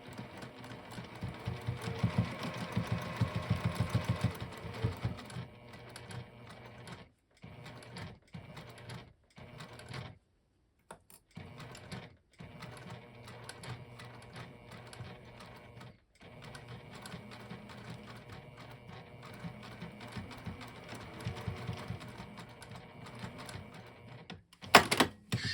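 Sewing machine stitching through thick layered fabric of a boxy tool pouch, a faint quiet whir running in stretches with several short pauses and a sharp clack near the end.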